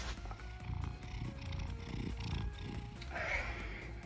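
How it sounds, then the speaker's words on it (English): A pet cat purrs softly and close by in a bedroom, a low, continuous rumbling texture that stays faint throughout with a brief brighter noise near the end. "There's my cat."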